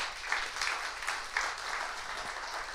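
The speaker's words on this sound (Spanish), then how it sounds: "Démosle un fuerte aplauso al Señor." A church congregation claps during a sermon, a dense, steady applause with rhythmic swells, heard alone for a few seconds.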